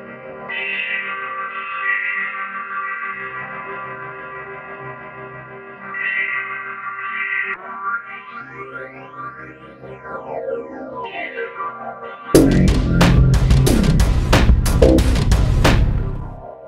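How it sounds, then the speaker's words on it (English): Synthesized beat run through an FM8 creative effect in Maschine, with swirling echoed, chorused tones sweeping up and down, then a dense, distorted full burst of sound near the end, loud and without speech. "what I want to do is a creative effect, and I'll use something like FM8"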